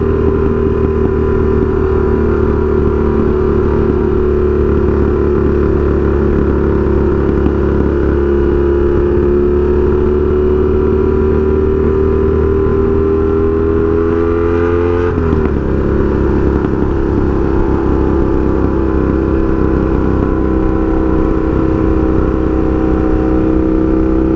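Honda Magna 750 motorcycle with a straight pipe exhaust, heard from the rider's position as a loud, continuous engine drone that holds steady, dips briefly midway, then carries on.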